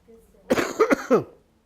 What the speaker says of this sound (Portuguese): Estou tossindo.